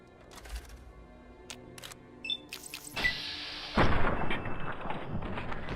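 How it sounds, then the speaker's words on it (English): A laser rifle fires in the video game Fallout New Vegas: a sharp burst near the three-second mark, then a louder, sustained crackling blast, with faint game clicks before it and no talk. "Laser rifle."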